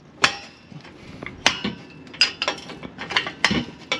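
A stubborn bolt on a Mazda Miata cracks loose under a jack handle used as a leverage bar. Sharp metallic snaps and clanks come close up, followed by a flurry of quicker ratcheting clicks, with no voices.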